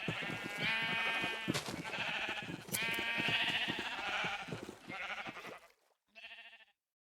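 Sheep in a block-building game bleat over and over in close, loud overlapping calls, then stop; one last short bleat follows after a brief silence.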